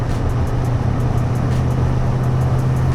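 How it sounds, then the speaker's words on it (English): Ford Mustang Foxbody with an 8.8 rear end cruising at 70 mph in fifth gear around 1800 RPM, heard from inside as a loud, steady low engine drone mixed with road and wind noise, no talking. "70 mile an hour, fifth gear. About 1800 RPM."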